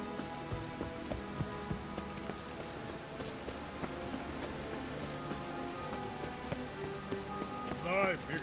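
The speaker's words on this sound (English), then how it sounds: "Looks like rain." Steady rainfall patters on surfaces in The Witcher 3: Wild Hunt, a dense continuous hiss of drops with occasional sharper clicks and game music tones underneath.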